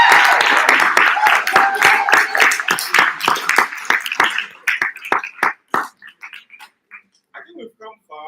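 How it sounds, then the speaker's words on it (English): A small class of entrepreneurship students claps for themselves at a final pitch session, a burst of close, loud clapping that thins into scattered claps and then fades out. "Can we give ourselves a round of applause?"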